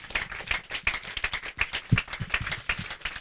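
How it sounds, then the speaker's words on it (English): A church congregation claps hands together in a steady, regular rhythm of sharp claps, moderately close, with faint voices underneath. "Just bless the Lord with a hand clap."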